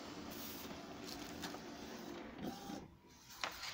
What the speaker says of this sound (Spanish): Jala la hoja y está imprimiendo.